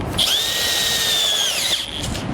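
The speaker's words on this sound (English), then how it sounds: "we're going to finish up with a 1/2" drill bit" A power drill with a half-inch bit whines loudly at a steady high pitch for about a second and a half, then winds down abruptly, drilling for a base plate on a 2019 Ford Explorer.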